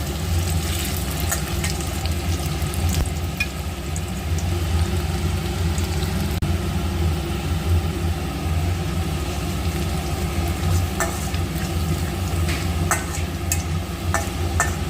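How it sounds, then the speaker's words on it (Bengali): Chopped onion browning in hot oil for a Bengali rezala-style katla fish curry, a constant dense sizzle running alone and close throughout, with a few faint clicks of a utensil. "আচ্ছা পেঁয়াজটা এখানে বাদামি হয়ে গেছে"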